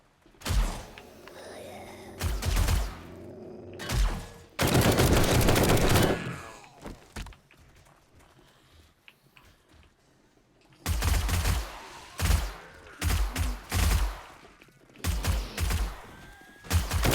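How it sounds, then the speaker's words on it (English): Guns fire at zombies in 7 Days to Die on an insane-mode server: several loud bursts of rapid shots, separated by quieter gaps. "I shoot mobs, then I shoot them a couple extra times just to make sure"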